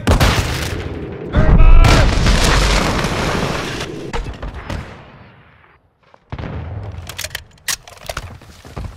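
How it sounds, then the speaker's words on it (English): Grenade explosion in the Call of Duty: Modern Warfare II beta, a loud booming blast with rumbling debris that fades into near silence before more gunfire and game noise resume. "Grenade!"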